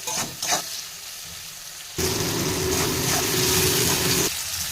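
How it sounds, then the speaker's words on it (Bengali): Chopped onions with turmeric powder hit hot oil in a pan at about two seconds, bursting into a loud, steady sizzle that continues for a couple of seconds as they are stirred, then eases slightly; no one speaks. "এরপর কেটে রাখা পেঁয়াজগুলো দিয়ে দেবো পরিমাণ মতো হলুদ গুঁড়ো দিয়ে দিলাম এরপর ভালো করে নাড়িয়ে দিলাম"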